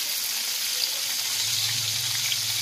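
Cauliflower frying in oil in a wok with salt and turmeric, for khichuri: a steady, close, continuous sizzle and hiss with a faint low hum underneath and no talking.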